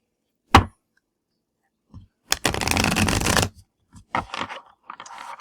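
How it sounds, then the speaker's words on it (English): Oracle cards being shuffled by hand: a sharp riffle near the start, then a sustained burst of rapid shuffling lasting about a second, followed by several shorter card-handling rustles and flicks, close and alone. "We're going to shuffle 3 times, and then we will do 3 passes."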